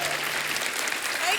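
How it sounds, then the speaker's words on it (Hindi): A studio audience on a Hindi comedy talk show bursts into steady, dense applause, clapping continuously and fairly loudly throughout the short burst. "जोरदार तालियां"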